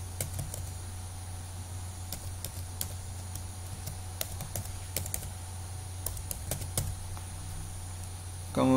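An email address is typed on a computer keyboard in a quiet room, a steady run of close, crisp keystrokes with brief pauses and a low background hum.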